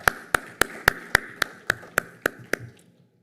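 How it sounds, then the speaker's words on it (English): Steady, evenly spaced claps, about ten sharp beats in a row, sound for players at a table tennis player auction, growing gradually fainter before stopping. "Shake hands around and we give them your round of applause."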